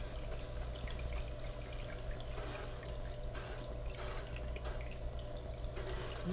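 Water runs fast and steady over a Black Scorpion gold panning sluice table, a constant splashing trickle with small drips, close and fairly loud over a low steady hum, no voices.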